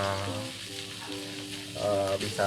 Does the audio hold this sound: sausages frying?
yes